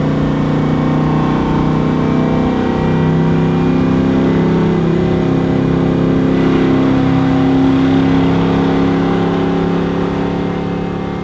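A 1966 Beaumont with a 283 crank and 400 block runs with a loud, steady, close engine drone that swells slightly midway, with no talking.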